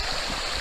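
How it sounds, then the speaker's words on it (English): Fast-flowing trout stream channelling between rocks in summer: a continuous broadband rush of water, close and steady, with no voices. "You've got that faster water coming through, nice and oxygenated."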